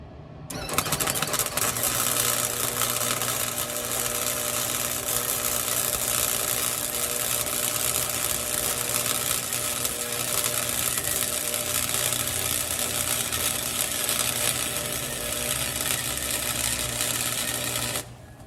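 Steady continuous welding buzz and crackle on a broken shock mount of a Suzuki Samurai, loud and close, running unbroken for about seventeen seconds before cutting off.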